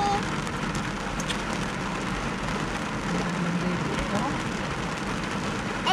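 Heavy rain pours outdoors beside a park river in Mississauga, Ontario, a loud, steady broadband wash that persists throughout, with people talking faintly underneath.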